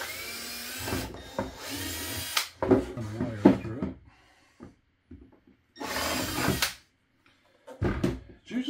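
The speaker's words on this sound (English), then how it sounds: "I'm going to drill a hole on either side of this" A power drill whirs in two short bursts, with clunks and handling noises between them and a voice briefly speaking nearby.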